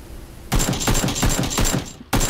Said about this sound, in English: But it turns into this big old long firefight